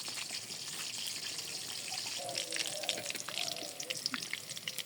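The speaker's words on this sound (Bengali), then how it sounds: "পেঁয়াজ কুচি দিয়ে দিই।" Chopped onion sizzles in oil in a pan over a village kitchen fire: a steady, faint hiss and crackle throughout, with no talking.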